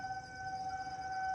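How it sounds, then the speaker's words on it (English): A steady, distant outdoor warning siren under test by Duke Energy drones at a constant pitch over low outdoor rumble, faint and unbroken throughout. "We've got Duke Energy testing their sirens"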